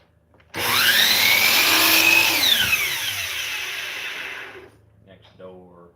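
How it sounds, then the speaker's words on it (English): A lawn mower running next door, its engine starting abruptly, revving to a loud whining drone, then easing down and fading, with a brief voice at the end. "Somebody must be mowing."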